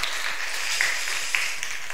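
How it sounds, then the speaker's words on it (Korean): A church congregation gives a round of applause, a dense patter of clapping heard from a moderate distance, fairly soft and steady, with no talking over it. "우리 목자 목련 모두에게 한 박수 한번 쳐주세요."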